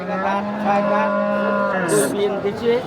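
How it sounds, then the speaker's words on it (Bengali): A Holstein Friesian dairy cow at a village cattle market lets out one long, loud, close moo that wavers in pitch, with faint background noise around it. "এক নম্বর সিরিয়ালে যে গরুটা দেখতেছি মার্শাল্লাহ সুন্দর একটা গরু এই গরুটা কি জাতের হলস্টাইন ফিজিয়ান"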